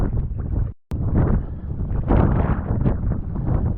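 Strong force 4 to 5 wind gusting across open lagoon water on a kayak trip from Nida to Klaipėda, roaring and buffeting the microphone loudly and steadily, with a brief dropout near the start.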